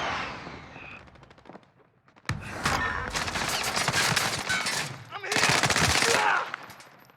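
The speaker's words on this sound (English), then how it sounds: "I just died to the fucking airstrike, Lex." Video game combat erupts with dense bursts of rapid gunfire and booming airstrike explosions, loud and sustained in two main waves with a brief lull between, close and intense.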